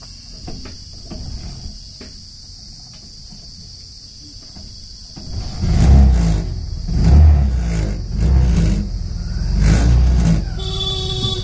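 A vehicle engine turns over and starts, then revs in several loud surges, while insects chirp steadily in the background.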